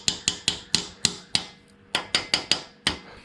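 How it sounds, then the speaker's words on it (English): Sharp metallic taps from a copper hammer on a bearing, about a dozen strikes in a quick uneven rhythm, each ringing briefly, close and clear with no talking. "Just going to slight tap with just a copper hammer."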